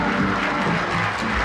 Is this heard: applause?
yes